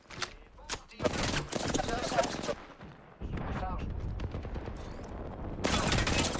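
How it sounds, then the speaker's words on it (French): Heavy gunfire in the video game Apex Legends, with dense bursts of loud, close shots and explosive cracks coming in waves with short gaps, and a voice speaking briefly near the start. "J'essuie des tirs."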